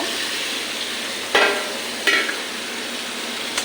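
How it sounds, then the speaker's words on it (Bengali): Fried potato and pointed gourd tipped into oily spice paste in a pan, a constant close sizzle with two sudden bursts as pieces drop in, plus a faint clink at the end. "যে ভাজা করে রেখেছি ওটা ঢেলে দেব"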